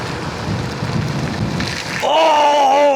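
Heavy rain pours steadily during an outdoor football match in windy, stormy weather, a dense broadband hiss with low rumbling; about two-thirds through, a wavering tonal whine or whistle rises above the downpour.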